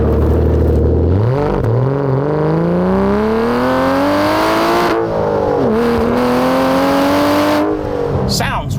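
A manual Aston Martin DB9 Sports Pack engine pulls hard while driving, its loud, close tone climbing steadily through the gears with a brief dip around a shift and a fresh rise afterward.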